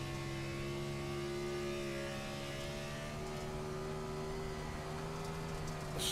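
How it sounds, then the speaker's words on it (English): Race car engine strains at Bristol Motor Speedway, a steady loud drone with rising and falling harmonic pitch as the car pulls through the banked turn, continuous and close with no voices. "a strain on that engine"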